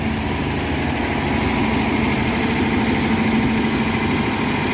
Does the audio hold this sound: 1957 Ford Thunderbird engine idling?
yes